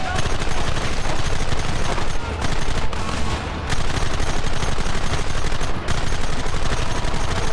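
Dense, loud gunfire from Red Dead Redemption crackles in rapid overlapping volleys of rifle and pistol shots, barely pausing for several seconds and with brief shouting mixed in.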